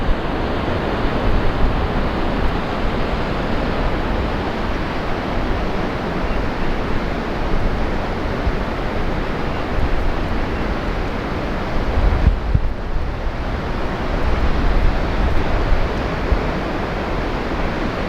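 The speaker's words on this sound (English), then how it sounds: "This is Bullard Beach near Bandon at the mouth of the Coquille River." Surf rolls in at Bullard Beach near Bandon, at the mouth of the Coquille River on the southern Oregon coast. The steady broadband roar of waves continues throughout while wind buffets the microphone, with no voices.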